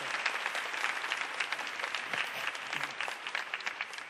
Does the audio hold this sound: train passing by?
no